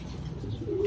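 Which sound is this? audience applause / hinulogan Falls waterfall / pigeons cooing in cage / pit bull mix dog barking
pigeons cooing in cage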